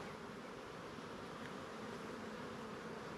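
Honeybees swarm around an open hive with a dense, steady buzzing that fills the air without a break, close and even throughout.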